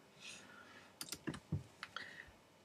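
A few sharp computer mouse clicks, quiet and close, scattered over a couple of seconds while selecting iLife 11 in the Mac App Store on Mac OS X 10.6.6, with no voices.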